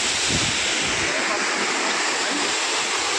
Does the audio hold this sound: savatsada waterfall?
yes